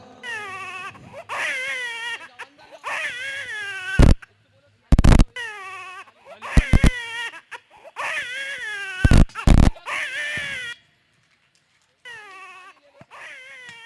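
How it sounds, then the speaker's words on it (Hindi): A newborn baby cries in repeated rising and falling wails with short breaths between, close and loud, cut by several abrupt sharp bursts of noise and brief silences, with a final softer cry at the end. "भैया बच्चे की आवाज है।"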